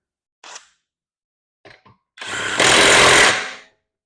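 A budget DeWalt-compatible impact wrench tightening a fastener: a couple of short clicks and brief bursts, then a loud, harsh hammering rattle lasting about a second and a half, close and alone.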